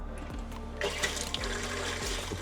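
Water runs steadily from an opened tap in a campervan, a continuous close hiss and trickle with a few clunks and knocks early on, no voices.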